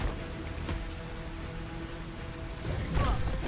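Steady rainfall in the video game Biomutant patters continuously, a dense hiss of drops, with a faint rumble and a brief louder stir near the end.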